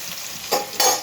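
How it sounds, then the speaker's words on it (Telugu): Onions hit hot oil in a pan for a spicy Guntur-style fish curry, with a steady sizzle and two brief louder bursts of frying as they are stirred. "తర్వాత ఉల్లిపాయలు వేసేసుకుందాం"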